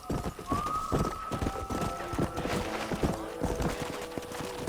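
Horse hooves clatter in a fast, rhythmic gallop in Red Dead Redemption, steady and fairly close, with a faint tonal hum running underneath.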